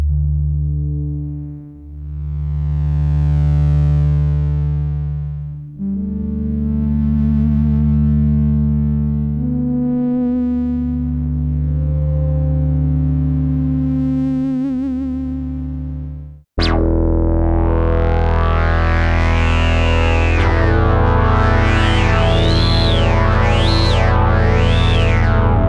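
Sustained digital analog presets on an Osmose synthesizer with slowly shifting pitches and swelling, filtered timbres, then an abrupt switch to a bright, buzzy, pulsing synth pattern.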